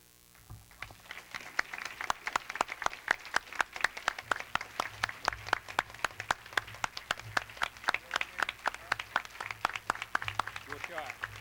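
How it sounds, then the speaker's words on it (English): A gala audience breaks into steady, sustained clapping that starts within the first second and carries on for more than ten seconds at a lively, even pace, with an evening-event hall ambience underneath. "I'd ask you to join with me in a round of applause for the person seated to my left"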